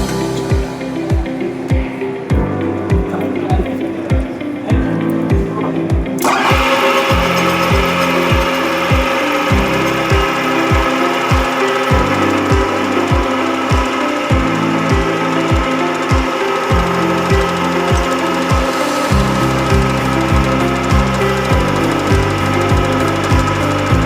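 A metal lathe turns a taper with its tailstock offset, giving a steady loud mechanical drone with a rhythmic knocking pulse and a brighter cutting hiss that starts partway through.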